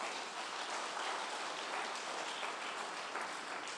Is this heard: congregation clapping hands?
yes